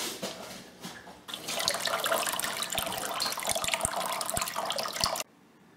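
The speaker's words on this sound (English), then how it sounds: "I will turn on the pump and show you how it pumps the water." A Spider Farmer hydroponic growing system's pump starts circulating water, producing a steady, close rush of running and splashing water, with scattered knocks, that swells after a quieter first second and cuts off abruptly near the end.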